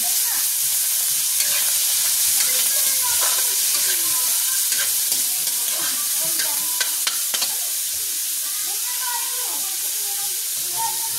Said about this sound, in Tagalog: Lagay natin yung hipon na binalatan.